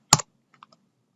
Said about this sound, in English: I'm going to hold down Shift while I'm typing.